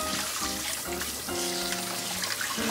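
Tap water runs into a kitchen sink during dishwashing, a loud, continuous splashing stream with shifting gurgles and clinks as the flow hits dishes, with no talking.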